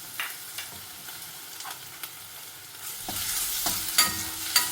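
Small pieces of ginger and garlic frying in very hot oil, a steady bright sizzle with scraping stir strokes and crackling pops that swell louder toward the end.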